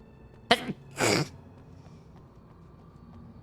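A single sharp sneeze in a quiet room during an Alan Wake gameplay session, a short burst followed by a second, longer explosive release, heard close and alone.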